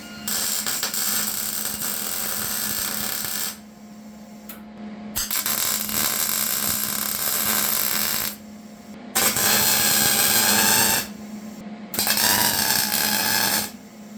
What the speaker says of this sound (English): I may just tack it together right now just so it all holds together